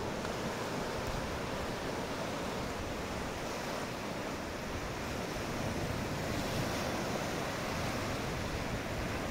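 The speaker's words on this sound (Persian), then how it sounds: "به ساحل دریا می رویم." Sea surf washes steadily onto a northern beach, a loud continuous roar of waves mixed with wind buffeting the microphone, with no voices.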